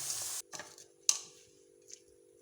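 Fried vegetables for a Spanish omelette are stirred in a pan, giving a few short scraping strokes and clinks over a faint sizzle, close by and fairly quiet.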